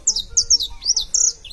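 Canário da terra, a saffron finch, calling in quick high chirps and short warbled notes, about half a dozen bright bursts repeating close to the microphone.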